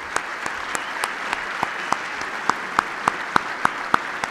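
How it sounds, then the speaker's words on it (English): Scattered applause at a chamber of commerce annual dinner, with a few close, sharp individual claps landing at a steady rhythm over a softer background of clapping. "Let's give them a round of applause"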